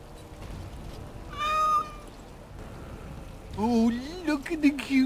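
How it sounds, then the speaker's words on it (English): A cat meows twice in the video game Dragon Age: Origins Awakening. The first meow is short and high, and the second is longer and wavering, both heard over a faint patter like rain. "look at the cute little kitty."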